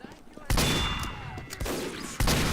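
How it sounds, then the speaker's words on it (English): Gunfire in the video game Team Fortress 2 comes as three sharp bursts of game shots, each followed by a short rattling decay, separated by brief lulls. "This is a gun, you can actually use this, obviously. So you can still shoot people."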